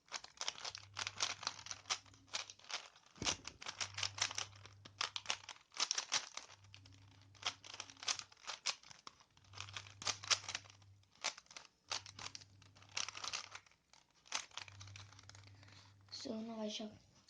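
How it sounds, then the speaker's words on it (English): A 3x3 Rubik's cube is twisted and shuffled by hand, producing rapid bursts of plastic clicking and rattling in close, irregular clusters separated by short pauses. "So I'll just shuffle my cube."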